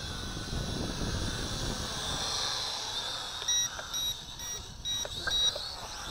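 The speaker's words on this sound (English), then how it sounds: "you press the button until you hear the beep beep" A series of short, high electronic beeps from a folding drone's controller sounds in quick pairs over the drone's steady whirring hum, faint against the background.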